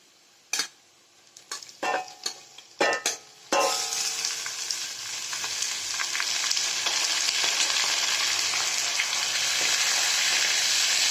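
Mutton dropped into a pan of browned fried onions, a few sharp clatters and thumps followed by a sudden loud, steady sizzle that continues strongly and close up to the end.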